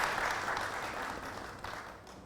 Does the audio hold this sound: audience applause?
yes